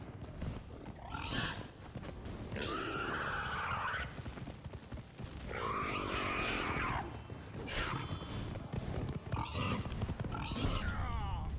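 Several gruff pig grunts and snorts from The Witcher 3: Wild Hunt come in separate bursts, loud and close, with a steady background hum underneath.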